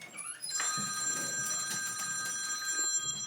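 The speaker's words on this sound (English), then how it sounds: "my husband left his phone here, and it has just been going off" A mobile phone left on a surface rings with a steady, bright electronic ringtone, fairly close and continuous, with no talking over it.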